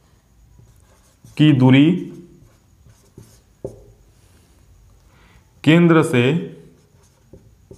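Pen on paper while writing out a Class 10 maths solution, a faint scratching heard under and between short bursts of Hindi speech.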